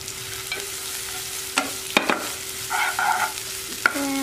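Onion, garlic and ginger fry in a pan for spicy crispy tofu, a continuous sizzle broken by several sharp utensil clinks and scrapes against the pan, close up with no voices.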